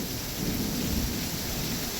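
Heavy rain falls in a dense, steady roar with a low rumble of thunder underneath, constant and enveloping throughout.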